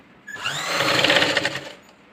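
Sewing machine stitching a princess-cut blouse, running in one steady whirring burst of about a second and a half, close and fairly loud, with no talking.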